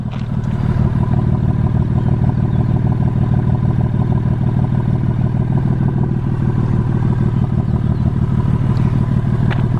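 A BMW M3 with a carbon fiber diffuser gives a loud, steady exhaust drone throughout, a deep rumble with a faint mechanical clatter and no talk over it.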